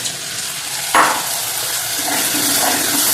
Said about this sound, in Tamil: இந்த உள்ளியும் போட்டுட்டு நல்லா வதக்கணும்.